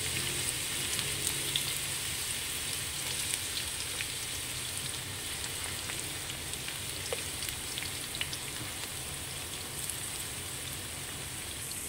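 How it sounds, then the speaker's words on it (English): One medium onion hits already heated oil and sizzles steadily for the whole stretch, a dense, even crackle with no talking. "the oil has already heated up, so in goes the onions"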